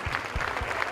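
A brief burst of steady audience applause at a celebrity dance-off, rhythmic clapping from a crowd, fairly soft and continuous for about a second.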